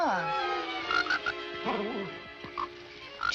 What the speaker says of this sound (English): Just a little frog.